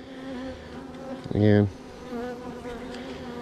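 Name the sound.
honey bees buzzing around queen cage at hive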